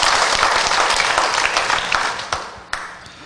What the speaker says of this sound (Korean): 하나님의 영광 박수 올려드립니다.